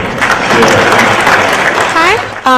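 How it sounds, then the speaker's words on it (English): An audience gives applause after a facilitated session at a BRAC business event, steady loud clapping throughout with voices and chatter mixed in and a voice cutting in at the end. "A round of applause for our excellently facilitated session."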